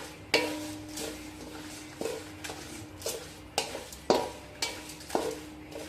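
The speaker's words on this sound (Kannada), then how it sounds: "ಕೆಂಪಾಗುವಂಗೆ ಹುರಿಬೇಕು ನೋಡ್ರಿ." Whole spices such as cloves and cardamom sizzle in hot oil for a spicy North Karnataka masala, with a steady hiss broken by repeated scraping stirs of a spoon against the pan.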